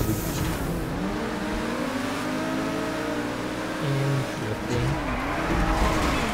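Cars race in a GTA video game race, with engines droning and revving and tires squealing and skidding throughout, loud and continuous.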